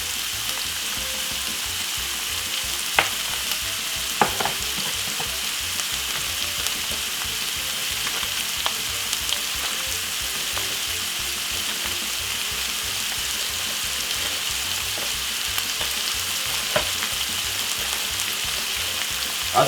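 Pasta and tuna with sweet corn and pepper fry in a pan, a constant close sizzle broken by occasional sharp clicks and scrapes as the mix is stirred.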